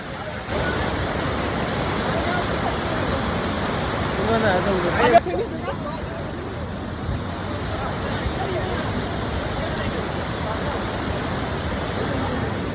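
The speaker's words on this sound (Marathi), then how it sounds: "तुम्हाला इकडे धबधबा दाखवतो. बराच पाणी आलाय इकडे, जास्त पाणी आहे." A waterfall swollen by heavy monsoon rain near a Mahadev temple at Kondeshwar, Badlapur, roars as a dense, continuous wash of water close by, loud and steady throughout with no clear speech over it.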